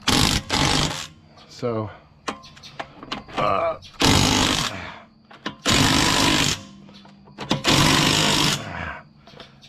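Ryobi cordless battery impact drill tightening car lug nuts, loud repeated bursts of rapid hammering rattle, each a second or two long with pauses between, close up, with someone talking in the gaps.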